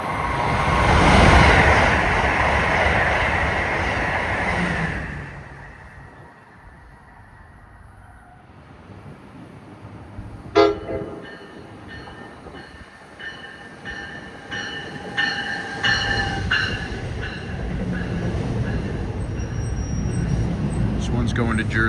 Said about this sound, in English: Northeast Regional's heading in opposite directions.